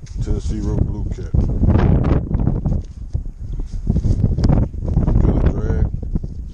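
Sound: wind on the Tennessee River bank

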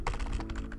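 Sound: typing on a computer keyboard

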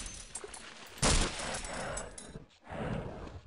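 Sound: shotgun firing in the video game Half-Life

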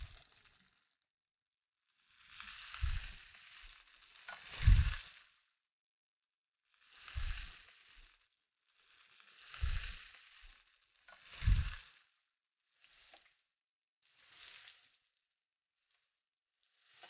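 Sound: meatballs frying in a pan

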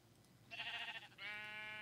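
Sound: sheep bleating from a sheep spawner in Minecraft video game

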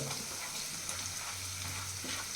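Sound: onion and tomato frying in a pan

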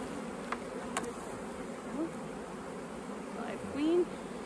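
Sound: honeybees buzzing at hive

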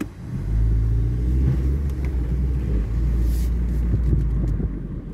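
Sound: Ford Focus hesitating in drive, first gear

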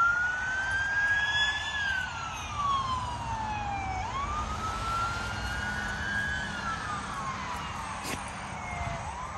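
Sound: ambulance siren passing in the morning

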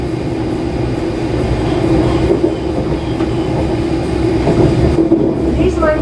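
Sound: Class 385 train running, Glasgow Central to Wemyss Bay

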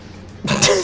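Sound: coughing and throat clearing

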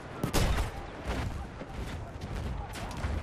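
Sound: mortar fire in the video game Battlefield 1

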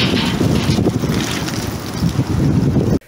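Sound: storm wind gusts in Barnaul

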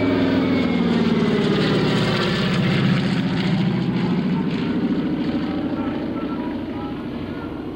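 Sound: C-60 Lodestar propeller airplane passing

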